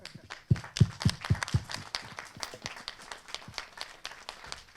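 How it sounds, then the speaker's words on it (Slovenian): At a retirement home in Cerklje na Gorenjskem, a small group claps. Several loud, distinct claps come first, then a looser patter of scattered clapping that fades. "Jaz bi prosila še enkrat za en aplavz."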